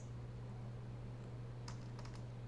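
A computer keyboard is typed on at a desk while a MySQL query is entered, a few light clicks and taps near the end over a steady low hum.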